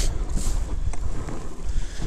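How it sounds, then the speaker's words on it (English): Strong wind gusts across a lake in winter, from a kayak on Pine Flat Lake, roaring and buffeting close to the microphone in a continuous rush, with no talk. "It's pretty tough with the amount of wind that we have here."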